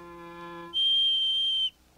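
A single sharp, shrill whistle blast sounds for about a second after a brief low tonal note, loud and close.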